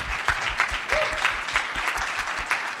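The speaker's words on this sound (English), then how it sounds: "give her another round of applause." An audience applauding steadily, a dense patter of many hands clapping at moderate loudness throughout.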